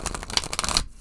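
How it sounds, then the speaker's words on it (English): A tarot card deck riffles quickly through the hands, a crisp, close flutter of cards lasting about a second before stopping into quiet. "so you can shuffle that way, you can shuffle overhand, and there's no right or wrong way to shuffle your deck"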